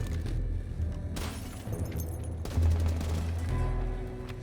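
Rapid gunfire in Rainbow Six Siege, shot through a wall or window: dense bursts of automatic fire and impacts with shattering debris, continuous and loud over about four seconds with no talk.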